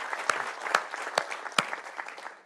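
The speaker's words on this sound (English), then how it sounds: "Please give them a round of applause again." An audience at an anniversary welcome event gives a round of applause, a moderate patter of many hands with a few sharp, distinct claps standing out close by.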